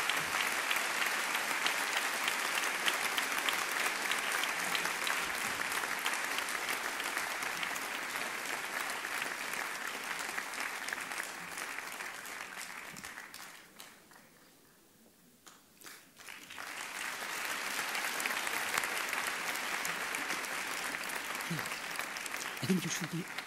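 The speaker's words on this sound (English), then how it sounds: "Ladies and gentlemen, a warm applause for the 6 award winners in category Education, Training and Awards Raising" An audience at the 2013 European Heritage Awards ceremony in Athens applauds award winners, with dense, steady clapping from a large crowd that briefly thins out midway before swelling back to full strength.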